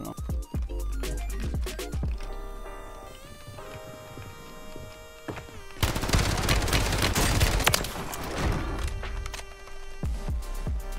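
SMG fire in the Call of Duty battle royale map Rebirth Island, loud rapid bursts of close gunfire with short pauses, then a sustained dense volley mixed with game effects and tones.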